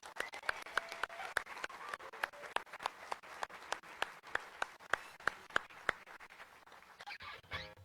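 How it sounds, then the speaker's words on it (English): An audience at a live punk band performance claps in a sparse, loosely rhythmic pattern of sharp individual claps, fairly quiet and close, before a brief noisy rustle at the end. "Please give them a round of applause."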